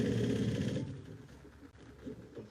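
A sewing machine back stitching a seam on a bucket bag runs in a steady, loud burst for under a second, then slows into quieter, uneven stitching.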